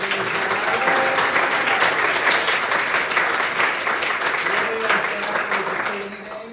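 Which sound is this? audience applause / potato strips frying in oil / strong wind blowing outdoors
audience applause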